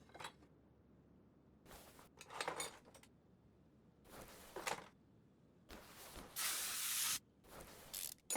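Hissing aerosol bursts of penetrating lubricant sprayed onto rusty bolts on a Dodge Viper GTS, several short blasts and one longer spray, close and fairly quiet with faint metallic clinks between.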